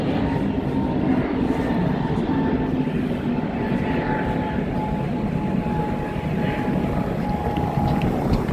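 An airliner departing from the airport at Ponta Delgada, São Miguel, Azores, producing a loud, steady jet roar with a low rumble that holds unbroken throughout.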